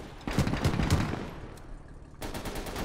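A 25 mm gun fires in the Gates of Hell war game, a rapid rattling burst of shots at the start, a lull, then more sustained firing near the end, loud and close with no talking.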